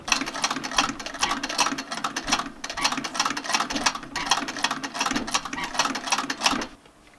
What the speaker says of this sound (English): On a traditional treadle sewing machine, all you have is a straight stitch.